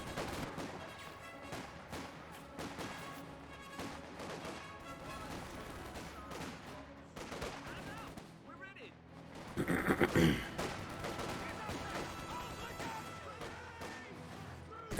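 Rapid bursts of small-arms and machine-gun fire crackle almost nonstop in a Company of Heroes 2 battle, with a louder explosive crash partway through, under a commentator's voice.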